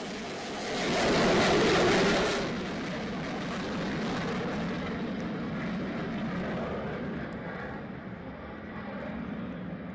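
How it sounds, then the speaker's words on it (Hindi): German fighter jets flying near the Polish border produce a broad, distant engine roar that swells to a peak early on and then settles into a steady, fainter rumble. "जर्मनी ने पोलैंड बॉर्डर पर अपने फाइटर जेट भेजे हैं।"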